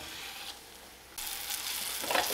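A floured fish fillet hits the hot oil in a frying pan: a steady broadband sizzle jumps louder at the drop and keeps crackling with bright spatters, with no voices.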